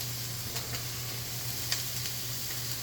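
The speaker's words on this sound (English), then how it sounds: "We're gonna drop our peppers and onions first." Peppers and onions sizzle in a hot oiled pan for a mac and cheese dish, giving a steady, moderately quiet frying hiss with a few faint crackles throughout.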